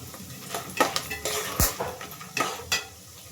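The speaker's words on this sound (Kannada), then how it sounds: "ಮೆಣಸಿನ್ಕಾಯಿ ಹಾಕ್ತಾಯಿದ್ದೀನಿ." Green chillies go into a hot frying pan of oil and onion while cooking vaangi bath, giving close scraping stir sounds, spoon clinks against the pan and a brief sizzle, with no talking.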